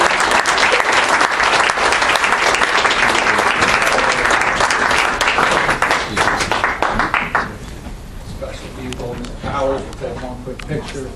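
A crowd at a group presentation applauds the recreational group with loud, dense clapping that holds steady, then fades to scattered claps while voices talk underneath.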